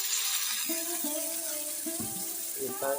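A little water splashes into spiced masala frying in a pan for egg tawa masala, giving a loud, continuous hiss and sizzle with faint bubbling squeaks, close by and with no talk.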